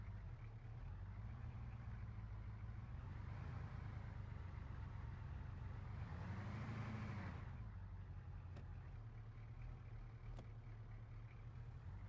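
Kamaz Typhoon 4x4 truck in the game DayZ idles with a deep, steady diesel rumble while reversing, swelling briefly louder as it revs midway, then settling back to an even drone.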